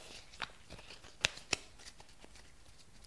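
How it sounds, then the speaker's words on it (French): A deck of message cards is shuffled close up, with soft riffling flutters and a few sharp card snaps, quiet and alone without talk. "je vais tirer une petite carte message de paix"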